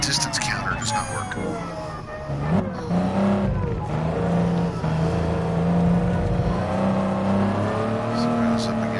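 Z car race engines in the Gran Turismo racing game, a dense blend of revving and droning car engines with shifting pitch, steady and fairly loud throughout.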